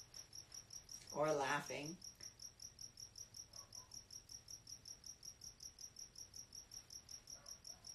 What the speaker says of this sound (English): The sound of that cricket is so natural.